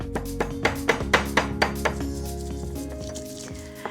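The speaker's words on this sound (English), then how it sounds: "So a few sprigs of parsley, and then crush this into a paste." Garlic, salt and parsley are crushed into a paste, a series of close, rhythmic knocks and pounds that slow and fade over a faint musical hum.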